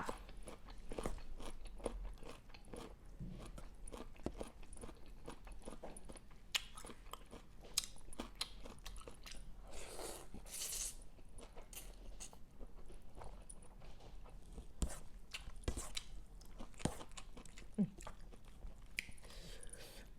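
Pork cracklings being bitten and chewed close up, giving crisp, irregular crunches and snaps throughout, quiet and near, with soft sounds of eating between bites.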